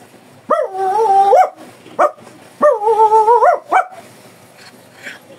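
A man imitates a big dog's barking with his voice, giving two long drawn-out woofs with short yelps between them, loud and close with no other sound.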